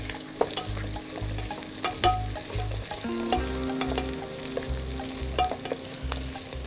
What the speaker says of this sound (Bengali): যেহেতু এটা পেঁয়াজ রসুন আমি ভাজছি